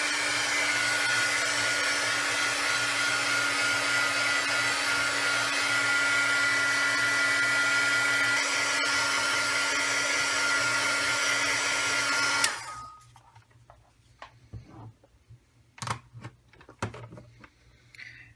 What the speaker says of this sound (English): I'm going to heat it once again with the heat gun